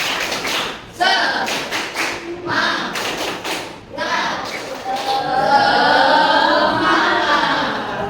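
A class claps a rhythmic spirit clap in a classroom, with sharp patterned claps in bursts, then a teacher's voice talks loudly over the room toward the end.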